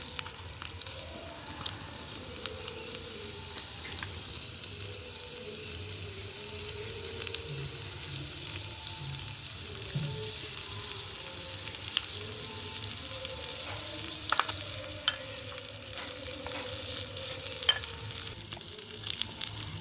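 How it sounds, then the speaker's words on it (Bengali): Marinated chicken fries in a pan with a soft, continuous sizzle and occasional stirring clinks, heard fairly quietly and close up with no voices. "এবার এটা পাত্রে দিয়ে দেবো চিকেনগুলো"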